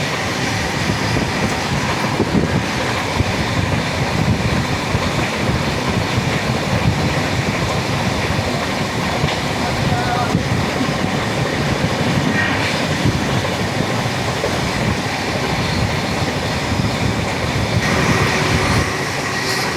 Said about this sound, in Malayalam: ഇതാണെന്ന് തോന്നുന്നു സ്വകാര്യ ന്യൂഡൽഹി എക്സ്പ്രസ്.